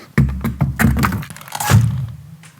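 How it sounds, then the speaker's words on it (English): A PGT Winguard impact window is set into a wall opening against fresh sealant, making a burst of close, heavy thunks, knocks and creaks over about two seconds. "I can now set the window into the opening"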